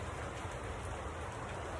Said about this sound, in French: Évidemment, quand il pleut ici